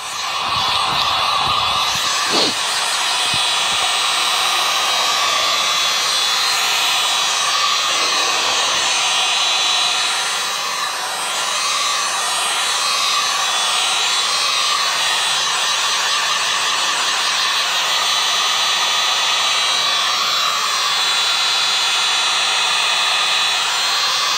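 A heat gun blows a steady, loud roar of hot air over a dyed golf disc, a hair-dryer-like whoosh with slight wavering pitch and no talking.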